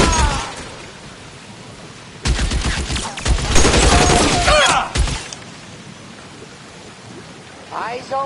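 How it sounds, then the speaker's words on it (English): Gunfire in the video game L.A. Noire: a loud burst of rapid shots for a couple of seconds that then fades, with short bits of in-game voice toward the end. "Gun."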